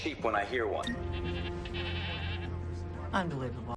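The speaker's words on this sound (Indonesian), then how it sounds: "didapatkan suara domba" Sheep bleat in a film soundtrack set at a slaughterhouse, wavering cries at the start and again near the end, with a steady low hum between them.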